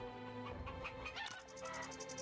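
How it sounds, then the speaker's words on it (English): Chickens cluck in the video game Wandering Sword, a soft flurry of short clucks and murmurs from several birds under a steady game music bed, with no talking. "Hello, chickens."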